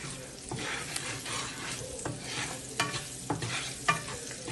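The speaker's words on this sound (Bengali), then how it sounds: "চিরা কাঁচা লঙ্কাগুলোকে দিয়ে একটু ভালো করে নেড়ে চেড়ে" Slit green chillies are stirred into a mustard hilsa curry, traditional Bengali village style, with repeated spoon scrapes and taps over a constant sizzle of frying, near and moderately loud, without talking.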